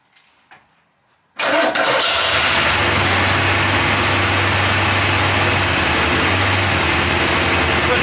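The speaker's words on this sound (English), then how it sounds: "I'm going to start the car" A Porsche 928 with an engine misfire cranks and catches after a second of near silence, then settles into a steady, loud idle that runs to the end.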